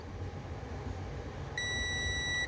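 A digital multimeter in continuity mode checking a fuse from a Stromer 48v e-bike battery emits one steady, high electronic beep lasting about a second, close by over a low background hum.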